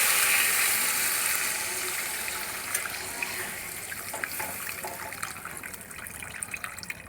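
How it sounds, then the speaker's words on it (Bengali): Water poured into a hot cooking pan of spiced potatoes and ridge gourd, a hissing, splashing pour that starts strong and fades into scattered sizzling crackles. "এবারে দিয়ে দেবো পরিমাণ মতো জল।"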